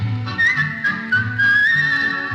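Someone whistles a bright, lilting melody with rising and falling notes, clear and close.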